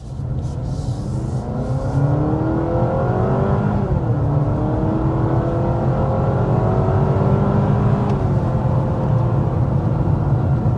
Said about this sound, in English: there we are quickly accelerating up to 60 miles per hour